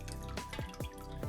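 Water is added to a mixer jar of soaked masala dosa batter ingredients, making several distinct close-up drips and small splashes at an uneven rhythm, with no talking.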